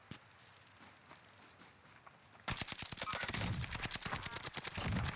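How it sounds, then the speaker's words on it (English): Gunfire in the video game Warzone: after a quiet stretch, a loud sustained burst of rapid automatic shots breaks out and continues in dense volleys to the end, with no talk. "Where am I getting shot from?"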